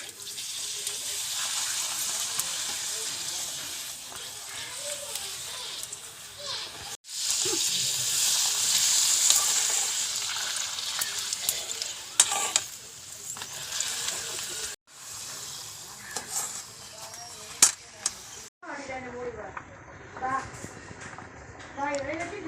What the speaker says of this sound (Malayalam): കറി തിളയ്ക്കണ നേരം കൊണ്ട് പപ്പടം വറുക്കാം.